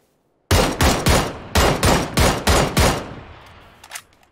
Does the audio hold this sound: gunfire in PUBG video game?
yes